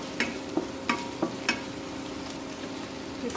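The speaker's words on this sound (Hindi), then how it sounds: "सबसे पहले इसमें हम हरी मिर्ची डालेंगे।" Green chillies fry in a hot pan with a steady close sizzle, broken by about five sharp spatula scrapes and taps as they are stirred.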